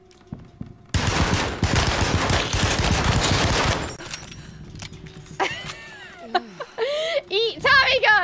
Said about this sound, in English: Eat Tommy gun